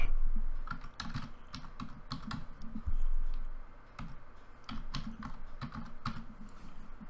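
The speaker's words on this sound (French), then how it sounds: "Et là, on fait Enter avec le clavier." Rapid keystrokes on a computer keyboard enter a map search, with bursts of clicky taps, brief pauses, and a firmer press near the end, close and clear with no talking.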